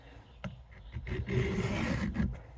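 A short Ka-Bar tanto knife's tip edge is drawn across a sharpening stone, giving a steady gritty rasping stroke after a brief tap, continuous and fairly close.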